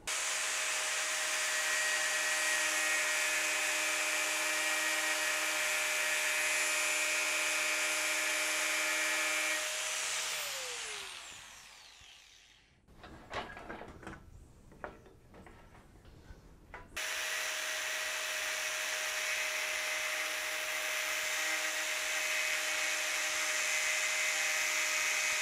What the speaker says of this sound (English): let's get our angle grinder on this and check out the sparks